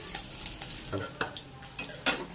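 Jute leaves hit hot mustard oil with garlic in a pan, giving a soft crackling sizzle, broken by several sharp scrapes and clinks of a spatula stirring against the metal.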